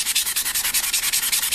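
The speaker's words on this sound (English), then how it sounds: "sand this down, but make sure I'm keeping the proper contour" Sanding sponge rubbed back and forth over the surface of a 1:8 scale Max Factory Mai Shiranui figure, a steady rhythm of close, scratchy strokes with no talk.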